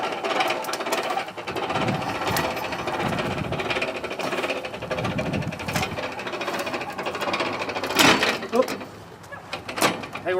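A hand-cranked Armstrong winch ratchets a Honda 750 barn-find motorcycle, rear wheel locked, onto a trailer outdoors, giving a busy clicking, grinding mechanical texture with a louder clank near the end while people talk nearby.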